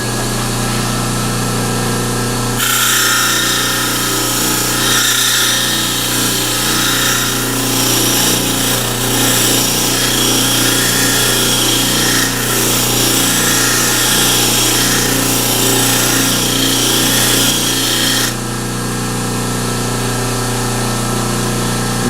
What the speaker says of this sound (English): In order to get the grain on here, we're going to use a wire wheel.